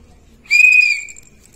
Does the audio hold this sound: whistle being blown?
yes